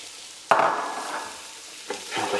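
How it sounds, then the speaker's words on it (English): Bacon and chopped garlic fry in a pan, a soft sizzle swelling as the food is stirred, with a sharp scrape at the start and another stir near the end, no one speaking. "And just fry that off for a minute or two. Just moving it around."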